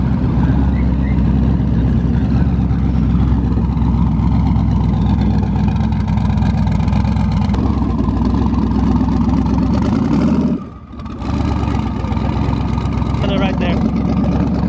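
A racecar engine runs loud and steady close by, a dense constant roar that briefly drops away for a moment before picking back up.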